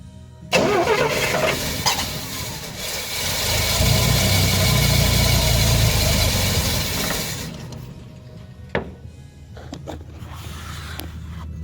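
Carburetted engine cranks and fires up after a fuel pump and filter test, running loudly and roughly for several seconds before it dies down, followed by a few faint clanks.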